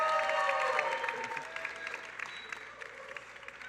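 Audience applause and cheering for a startup pitch at an innovators competition, loud at first and then thinning to scattered claps over a few seconds.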